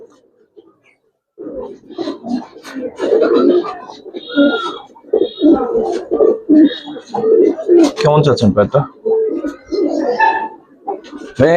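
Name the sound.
Giribaz silver pigeons cooing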